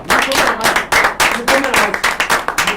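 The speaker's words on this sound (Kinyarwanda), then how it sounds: "Mukomera amashyi cyane." An audience at a church youth comedy and choir event claps loudly in short rhythmic bursts, close and lively, with a few voices mixed in.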